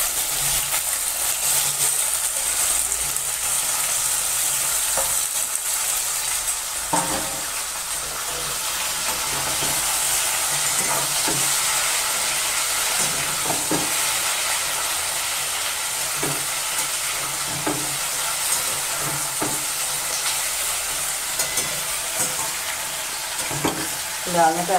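Taro stolons (kochur loti) tossed into hot oil with green chillies, frying in a loud continuous sizzle while a utensil stirs and scrapes with occasional knocks throughout.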